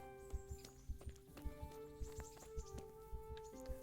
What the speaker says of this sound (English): Let's park our horse right out here.